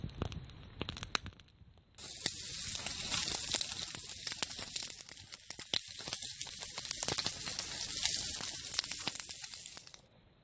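Breakfast sizzling and crackling over a fire at a snowy winter campsite by Porcupine Lake, a loud steady fry with scattered pops that starts abruptly after a quieter opening and cuts off near the end.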